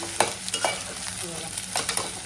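Onion frying in a pan for a dried-shrimp recipe, stirred with a spatula, steady sizzle under a few sharp scraping clicks, close, no talking.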